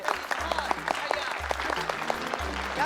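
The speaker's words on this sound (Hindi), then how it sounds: "यहाँ तालियां बजती है।" Applause rises from a crowd at a Diwali gathering under a tent, a steady patter of many hands clapping. Music and a low droning tone run underneath throughout.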